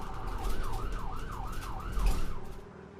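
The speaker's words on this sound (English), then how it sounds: "I do not like sirens." A wailing emergency siren rises and falls in quick, regular sweeps over traffic rumble, fading out at the end.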